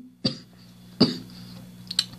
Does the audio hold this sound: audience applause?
no